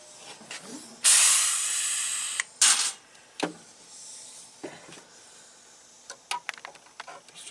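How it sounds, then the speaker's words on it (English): A pneumatic rivet gun sets rivets in vintage Polaris Triple snowmobile motor mounts, giving a couple of loud hissing bursts followed by scattered clicks and handling knocks nearby. "you better start both rivets and don't drop your... Get both in there. Don't drop your rivet gun on the rivet"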